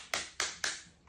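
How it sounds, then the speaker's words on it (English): Three quick hand claps in an even rhythm, close and sharp, followed by a fainter fourth tap, with no talk over them. "Let me clap."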